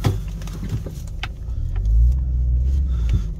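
An all-wheel-drive Chrysler 300C with a Hemi V8 on Goodyear snow tires drives through a snowy blizzard, its engine rumbling steadily from inside the cabin, rising slightly midway, with small clicks and knocks over it.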